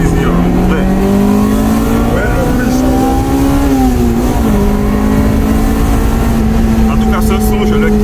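A Honda Integra Type R engine revs loudly and continuously, its pitch rising and falling steadily as the throttle is held and eased, close up with no talking.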